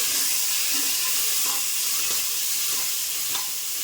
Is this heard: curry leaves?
yes